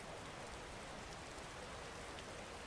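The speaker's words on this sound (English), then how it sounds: "9-hour rainy night in the Rift. Skyrim music and ambience." Rainy night ambience in the Rift region of the video game Skyrim: a steady, faint hiss of falling rain with no voices.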